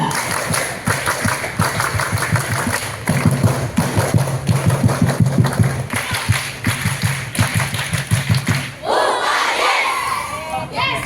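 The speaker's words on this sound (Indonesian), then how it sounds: "Tiga kali tepuk pramuka." Elementary school children at a Friday–Saturday Scout camp at SDN Kalibaru 01 Pagi do the Scout clap in unison: a long run of rhythmic, patterned group claps and thumps mixed with chanting voices, then a burst of shouting at the end.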